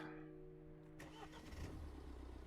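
A car crashes in the video game Norman's Great Illusion: a sudden burst of noise cuts through the steady tonal music after about a second and is followed by rough engine rumble.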